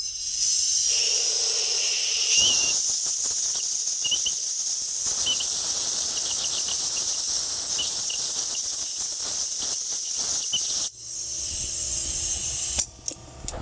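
Compressed air blows debris out of a squarebody truck part, making a steady close hiss with faint rattles and clicks, changing briefly near the end.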